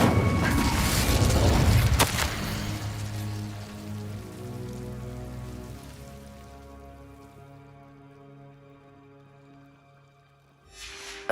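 An Incendio fire spell from Hogwarts Legacy bursts with a loud whooshing roar and a sharp crack, then decays into a long fading rumble with tonal magical shimmer, ending in a short burst of noise.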